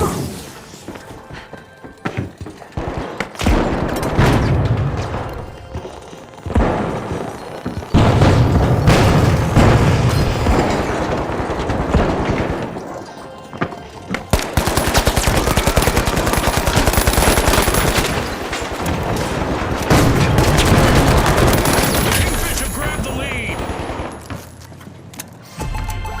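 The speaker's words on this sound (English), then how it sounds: "Throwing some bombs." Bombs explode and guns fire in the video game The Finals, with heavy booms and dense bursts of automatic gunfire that carry on loudly and almost without pause through a chaotic match.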